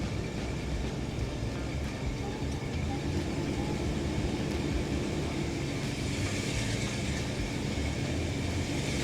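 A Dodge Ramcharger 4x4 engine drones steadily while driving, a constant loud rumble with road and wind noise heard from inside the cabin throughout.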